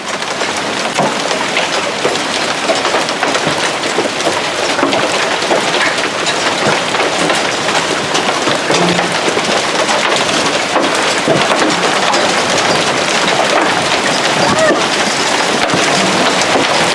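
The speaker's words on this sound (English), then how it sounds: "Lightning hailstorm. It's raining. It's freaking raining." Heavy rain and hail pound hard surfaces and cars during a thunderstorm in a dense, continuous clatter with sharp ticks, loud and close throughout.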